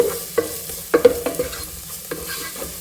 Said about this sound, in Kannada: ಒಂದು ಆನಿಯನ್ನ ಸಣ್ಣದಾಗಿ ಚಾಪ್ ಮಾಡಿ ಇಟ್ಕೊಂಡಿರೋದು ಅದನ್ನು ಹಾಕ್ಬಿಟ್ಟು ಅದನ್ನು ಚೆನ್ನಾಗಿ ಫ್ರೈ ಮಾಡಿ